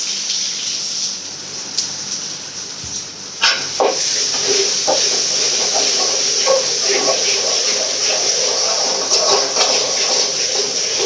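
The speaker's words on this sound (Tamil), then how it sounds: "நல்லா இந்த மாதிரி வதக்கணும்" Pirandai (veld grape) sautéing in a pan, a steady loud sizzle and hiss close by, broken by a few sharp stirring clatters as it is tossed.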